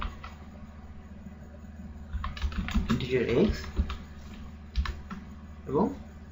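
Rapid clattering of a computer keyboard as C++ code is typed, bursts of keystrokes and a few clicks close up, with a voice talking quietly over part of it.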